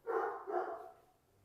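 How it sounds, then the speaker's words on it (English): A dog barks twice in quick succession, fairly faint and somewhat distant, with a short trailing whine after the second bark and no talk over it. "That is my dog."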